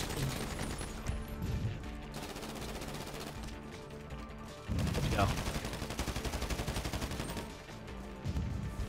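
Gunfire rings out during a GTA prison-break heist in the video game, as rapid automatic bursts and repeated shots. The firing grows denser and louder partway through, with brief pauses between volleys.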